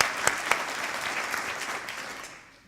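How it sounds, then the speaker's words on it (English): An audience at a business leaders' gathering breaks into warm applause, a dense patter of clapping with a few sharp claps near the start, holding steady before tapering off at the end. "give him a round of applause."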